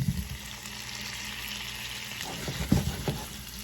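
Potatoes dropped into a hot pan with garlic hit the fat with a steady, loud sizzle, with some scraping and stirring near the end as the frying carries on close by.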